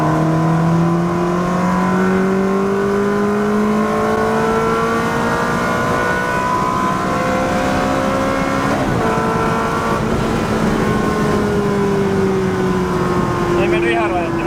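A Ferrari engine revs hard toward its rev limiter under acceleration, its loud rising howl climbing steadily across several gears, with a brief shift dip partway through and one more pull heard from inside the car.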